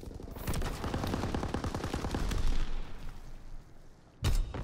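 Heavy artillery and mortar fire in a military video game, a dense rolling barrage of rapid booms and blasts continuing for several seconds, then a short pause before one more loud burst.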